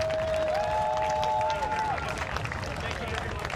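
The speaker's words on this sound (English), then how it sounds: "Let's have a round of applause for our marshals, ensuring the safety" Audience applause for the marshals at an international buhurt tournament, the Abbeystowe Challenger Clash, sounds as steady crowd clapping and murmur throughout, with a brief whistle-like tone over it early on.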